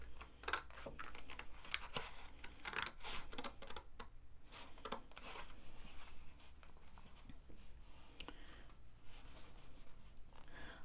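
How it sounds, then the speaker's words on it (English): Card being cut up to a score line for a chocolate gift box, a run of small crisp snips and crunches repeating unevenly up close over a steady low background hum. "I'm cutting up to the very first score line"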